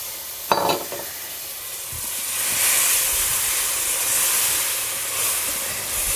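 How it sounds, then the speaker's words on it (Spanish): Milk poured little by little into flour toasting in a pan while it is stirred, a soft steady sizzle and hiss with a sharp clink near the start, swelling slightly midway as the liquid hits the hot pan. "Mirad, en este momento vamos añadiendo la leche poquito a poco."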